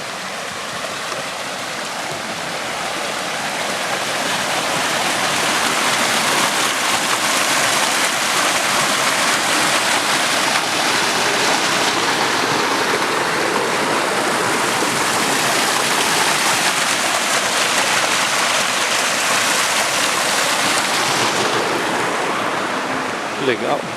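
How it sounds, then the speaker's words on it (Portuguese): A waterfall and flowing water at Estância Barão do Rio Branco in Tamarana, Paraná, give off a continuous, dense rushing roar, loud and near, steady from start to finish. "Sonzinho de cachoeira, sonzinho de água, né?"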